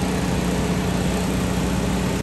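Tractor engine running steadily while spraying fungicide on a farm field, a loud, constant close-up drone with no pauses, cutting off abruptly at the end.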